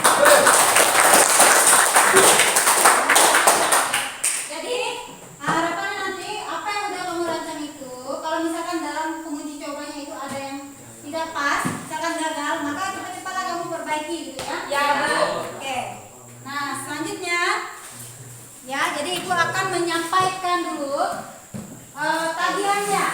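Classroom of physics students clapping together during a lesson, a burst of mixed hand claps for the first few seconds before a teacher's voice takes over and continues talking.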